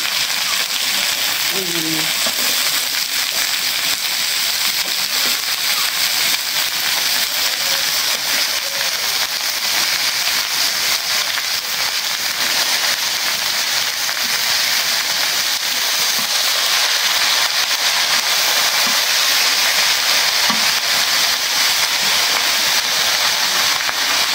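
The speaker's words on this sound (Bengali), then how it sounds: "পেঁয়াজ মরিচ রসুন ভাজা হয়ে গেছে। এখন শাক দিয়ে দেবো।" Onion, chili and garlic fry with khesari greens in a pan as a loud, dense, continuous hiss that holds steady throughout without breaks.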